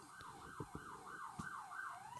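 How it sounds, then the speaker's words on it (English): Wailing emergency siren sweeping up and down steadily outside, moderately distant, with a few faint knocks and thumps nearby and no talk. "Here comes our sirens."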